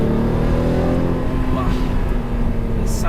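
A Lamborghini Murcielago with a six-speed manual gearbox roars loudly and continuously, a deep sustained engine note heard close from inside or near the car, with a slight rise in pitch through the run.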